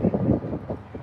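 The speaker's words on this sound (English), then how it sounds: "Y'all heard that? Yeah, so it's like, it's windy." Wind buffets the microphone in low, uneven gusts, a rumbling rush that swells and eases over about a second.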